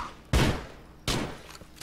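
Two loud bursts of gunfire in the motorcycle-gang game GTA 4: The Lost and Damned, each a sharp crack with a decaying tail, spaced under a second apart.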